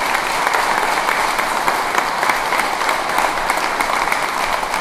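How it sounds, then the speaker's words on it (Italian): Steady, dense applause fills a community award ceremony at Rustigazzo, honouring volunteers and carabinieri, with a sustained loud crowd clapping throughout and no break. "vorrei ribadire un grande applauso per i volontari in particolare e anche appunto per i carabinieri"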